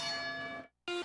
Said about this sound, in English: And you tap the bell.